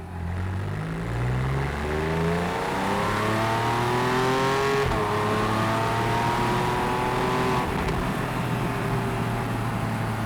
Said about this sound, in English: press that sports button and switch on the sports exhaust